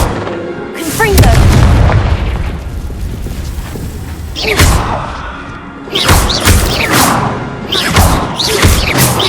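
Confringo spell blasts in the Hogwarts Legacy video game, a deep booming explosion followed by several more sharp crashing impacts, loud and close amid game effects, with a voice speaking partway through.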